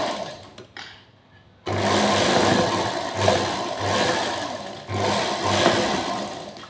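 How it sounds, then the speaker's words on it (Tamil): A sewing machine stitches folded fabric, its fast mechanical whir running in three bursts separated by brief slowdowns, close and steady after a quiet start with some handling noise. "இதை இப்படி மடித்து இந்த இதிலேருந்து தையல் போடணும்"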